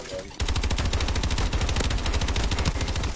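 Rapid automatic gunfire in the video game Call of Duty: Advanced Warfare, a dense sustained burst of loud close shots starting abruptly and running without pause.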